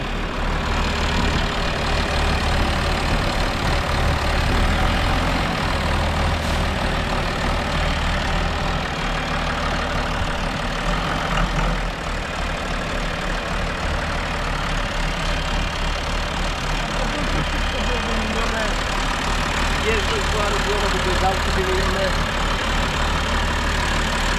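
A small John Deere tractor engine idles steadily, a continuous low rumbling drone that runs the whole time, close and fairly loud with no clear changes in pace.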